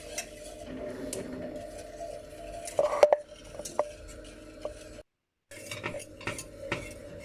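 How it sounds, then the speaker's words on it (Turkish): Milk pudding (muhallebi) stirred in a pot on the stove: a spoon clinks and scrapes against the metal in a steady, close rhythm, with a couple of sharper knocks and a short silent gap near the end. "muhallebimizi ocağa alıp sürekli karıştırarak pişireceğiz"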